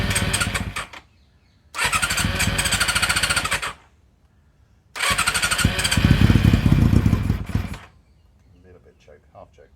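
Honda CB400 Super Four motorcycle engine cranking and catching in two separate loud start attempts, each running a couple of seconds before stopping, with brief quiet gaps between and faint noises at the end.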